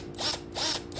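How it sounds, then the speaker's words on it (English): Two short bursts from a power drill fitted with an ordinary twist bit, whirring as it bites into the workpiece, close and fairly loud with brief pauses between. "I'm just going to use a regular drill bit"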